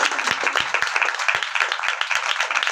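A church congregation clapping together for Jesus Christ, dense steady applause close by with many hands, lasting a few seconds.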